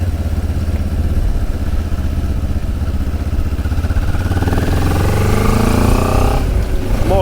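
Close, loud engine of a QJ Motor SRT 700 SX motorcycle as it rides, a steady throbbing drone that climbs in pitch while accelerating, shifts, and climbs again.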